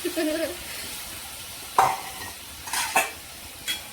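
Food in a cooking pot is stirred with a few scraping, clinking strokes over a faint background hiss, spaced irregularly and heard up close.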